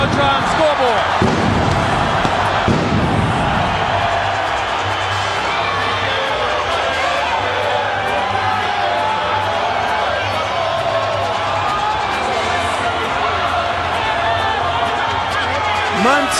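A loud, dense boxing arena crowd roars and cheers continuously as Oscar De La Hoya makes his entrance for his fight with Sugar Shane Mosley, a thick wash of voices with a few sharper shouts and no clear speech on top.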